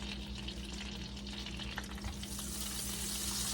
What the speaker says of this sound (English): we are gonna get these pork chops in this pan